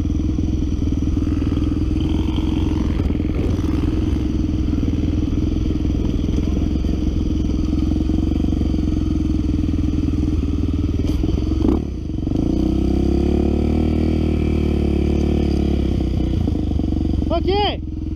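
A motorcycle engine idles steadily while warming up on a muddy dirt road, a loud, continuous low rumble that holds throughout with a brief dip near the end.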